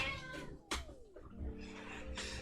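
A house cat meows several times in a short burst, the calls rising and falling with a brief plaintive caterwaul, close and fairly loud over a quiet indoor background.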